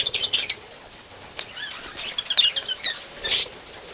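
A pet budgie flutters its wings in short, soft bursts, close by, with a few light rustling flaps spread across a few seconds and no talking.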